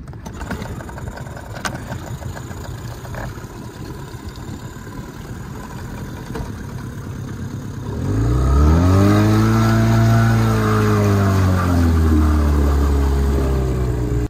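A small pull-start boat engine aboard a trawler catches after a stretch of quiet ambient noise, then revs loudly and nearby with rising and falling pitch. No one speaks.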